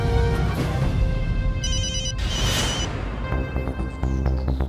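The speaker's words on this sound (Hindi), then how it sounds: "मेरा फोन है, मत उठाना प्लीज" A mobile phone plays a bright electronic ringtone with repeating tones for a couple of seconds, set against background noise and clattering sounds.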